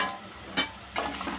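Prawn curry with gongura and a pinch of turmeric stirred in a pan, a short burst of close sizzling with a few scraping stir strokes, no voices.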